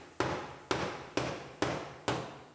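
Five sharp metallic hammer blows land on a Lexus IS250 quarter panel in a body shop, spaced about half a second apart, each a loud close strike with a short ringing decay.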